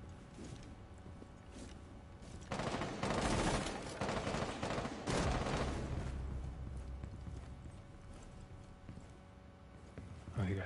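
Gunfire and in-match action from Rainbow Six Siege on PS5, with dense bursts of shots and clatter in the middle of the stretch over a steady game background, fading to quieter ambience near the end.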